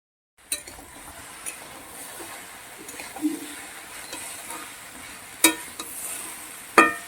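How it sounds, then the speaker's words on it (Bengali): Spices fry with kohlrabi in a pan, a soft low sizzle broken by occasional spoon scrapes and a few sharp clinks against the pan, close and otherwise quiet. "এবার ভালো করে মশলাগুলোকে ওলকপির সঙ্গে কষিয়ে নেব"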